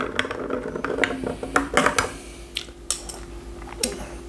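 A spoon stirs an ice-cold chocolate hazelnut martini, with a run of quick clinks and taps of metal against glass, close and crisp, then a few sparser knocks before it fades.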